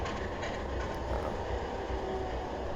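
Alco diesel locomotive in the Trainz 2022 simulator on the GILA Railway, a steady dense engine rumble with rolling rail noise holding constant throughout, no voices.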